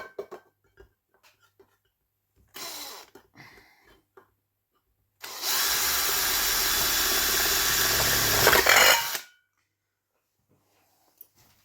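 A power drill runs in one continuous burst of about four seconds, loud and close, after a few scattered clanks and knocks in an otherwise quiet room.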